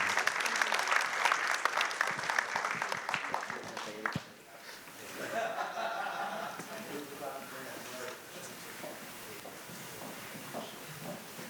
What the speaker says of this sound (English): A round of applause for CR&R and Crystal